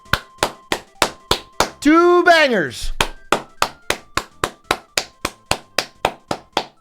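Sharp, evenly spaced single claps repeat in a steady rhythm, broken briefly by a spoken voice partway through.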